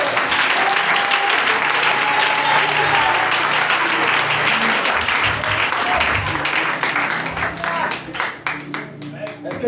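A church congregation applauds with loud, dense, continuous clapping that rises together and then thins and fades toward the end, with voices mixed in under the noise.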